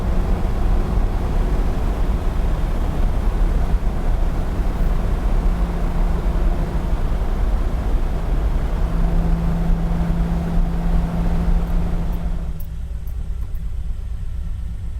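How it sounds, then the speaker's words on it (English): A vintage Ferrari cruising at speed in fifth gear, its engine a loud, steady drone with road and wind roar, continuous and close, easing off near the end. "First time driving that road, obviously first time in a vintage Ferrari."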